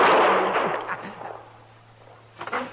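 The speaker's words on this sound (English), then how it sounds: "That was a rifle shot, Doc, a long-barreled human rifle." A long-barreled rifle shot in a Western radio drama, heard as a loud sharp report with a rumbling decay, followed by a fainter second crack.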